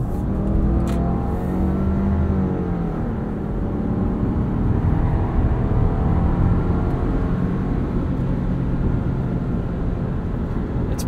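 A 2020 Subaru Outback Onyx Edition XT driven hard through corners, its engine droning and rising steadily under load with strong low rumble and road noise heard from inside the cabin, continuous and fairly loud.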